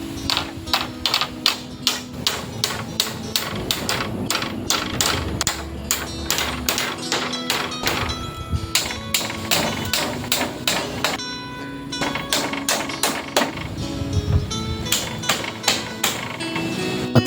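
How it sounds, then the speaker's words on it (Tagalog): Steady hammering of nails into bamboo poles on top of a bahay kubo hut roof, a long run of sharp, evenly paced strikes with brief gaps, close and loud. "At sinimulan ko na dito ipatong ang kawayan para ipako na dito sa itaas ng kubo."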